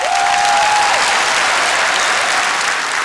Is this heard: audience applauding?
yes